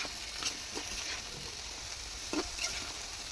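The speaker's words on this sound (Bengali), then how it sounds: "এটা ভালো করে কষাই নেব।" Vegetables sauté in a pan with a soft, even sizzle and a few light scraping taps from stirring, with no one speaking.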